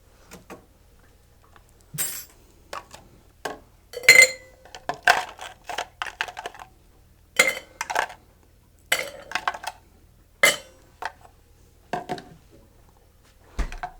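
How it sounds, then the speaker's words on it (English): Ice goes into a cocktail shaker for a drink topped with soda, producing a sequence of sharp clinks and rattles of cubes against glass and metal, spaced irregularly and close by. "So let's get some ice."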